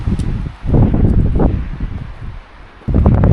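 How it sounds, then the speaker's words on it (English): Strong wind gusts through trees on a mountain at Yosemite's Gaylor Peak, a loud roaring rush with leafy rustling that swells, briefly eases, then surges again. "Oh, it's very windy."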